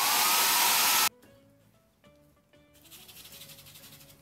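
A hair dryer blows loudly on paint on an MDF stencil plaque for about a second, then cuts off abruptly, leaving faint tones and a softer whir returning near the end.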